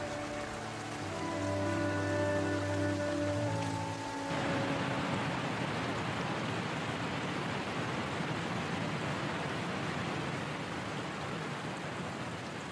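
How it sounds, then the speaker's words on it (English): Warm spring rain falls on a forest as a steady, dense hiss of drops that runs unbroken once a brief passage of soft music fades out in the first few seconds. "The warm rains wash the forest clean and fill the river to its banks."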